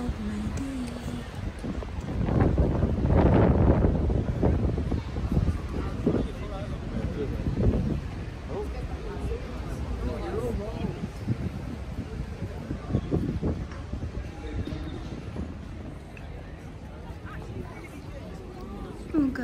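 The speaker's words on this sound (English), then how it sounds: "Oh gosh, so windy." Strong wind blows outdoors, buffeting the microphone in loud rumbling gusts that peak early and keep surging, with a person talking briefly under it.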